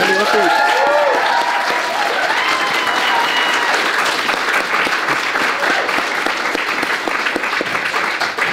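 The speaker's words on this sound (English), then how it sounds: "Can we give them a round of applause?" Loud, sustained applause from a festival audience thanking the organising team at the close of a two-day literary festival, dense and steady throughout, with a voice or two briefly audible at the start.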